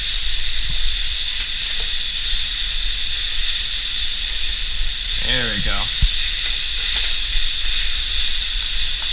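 Ground meat pressed flat in a pan sizzles with a steady broadband hiss throughout, a brief voice speaking over it midway.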